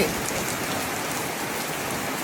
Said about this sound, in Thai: ฟ้าห้องฝนตกแรงมากเฮ้ย